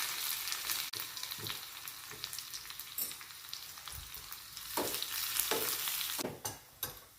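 Garlic cloves frying in oil over a low gas flame for methi, giving a steady close sizzle with scattered stirring scrapes and clinks, a few sharper pops near the end.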